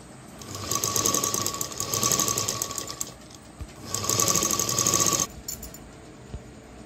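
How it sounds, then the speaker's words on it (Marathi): Sewing machine running in bursts while stitching a folded blouse strip: two long rapid whirring runs with a short pause between, then stopping, close and loud. "तर आता ही पट्टी अशी उलटी करते आणि दाब शिलाई मारून घेऊया।"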